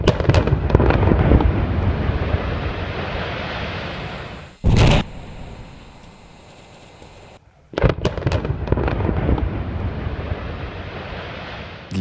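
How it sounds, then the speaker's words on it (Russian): Explosive blasting for road construction: a sharp loud blast bursts out mid-clip amid rumbling, wind-buffeted outdoor noise, followed by a sudden cutoff and another surge of roaring debris and rumble. "пришлось проводить едва ли не самые масштабные взрывные работы"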